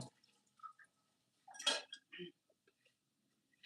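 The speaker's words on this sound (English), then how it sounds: "I'm going to go ahead and soak this pan." A metal non-stick pan clinks down with a splash of water as it is put to soak, followed by a few faint drips and small taps, then quiet.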